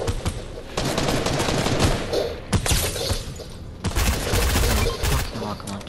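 A rock launcher fires in Fortnite amid a dense barrage of rapid blasts and thumping impacts, loud and close, with sharp bursts repeating across several seconds.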